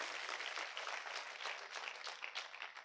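A crowd applauding at a motivational talk, a dense, even wash of many hands clapping that runs steadily throughout, moderately distant and fairly quiet, with no voices over it.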